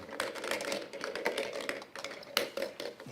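Plastic draw balls for an Under-19 European Championship final draw rattle and clatter against each other in a bowl as they are shuffled, a busy continuous clicking with a few sharper knocks.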